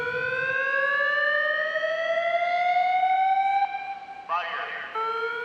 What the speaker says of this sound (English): For fire evacuation, the fire alarm is used for notification.